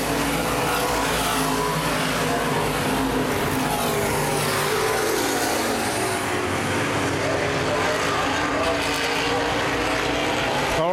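Open wheel modified race cars roar around Baer Field Speedway in a dense, continuous engine din that swells as the pack passes, and an announcer talks over the racing.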